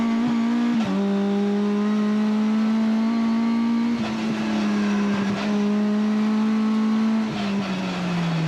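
Race car at speed on the Lédenon circuit in hot conditions late in a race, engine holding a loud, steady high drone with gear-change dips and rises, close and continuous throughout.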